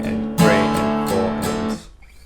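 Chorus chords of a song are strummed on an acoustic guitar, with about four bright strokes in an even rhythm, close and clear, the last chord ringing out and fading.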